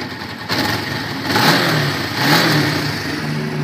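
A 2006 Kawasaki Ninja 500 motorcycle engine runs close by, climbing in two strong revs before settling back toward a steady idle, with no talk over it.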